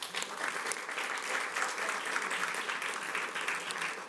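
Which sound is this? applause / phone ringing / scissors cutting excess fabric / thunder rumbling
applause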